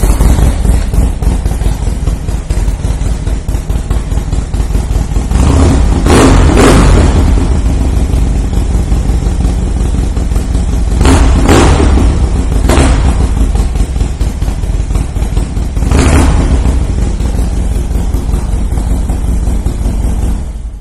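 A 2009 Harley-Davidson FXD Super Glide with a Stage 4 build and Roland Sands exhaust runs loud and close, a deep continuous V-twin rumble with several throttle blips rising above the idle.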